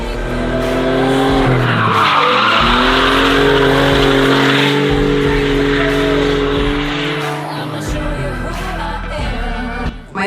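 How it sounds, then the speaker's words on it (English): A car drifts through a long curve with the handbrake set, its engine droning loudly and its tyres squealing and skidding almost without a break, close and strong, fading a little near the end. "It's one of those exercises where you enjoy drifting as opposed to thinking"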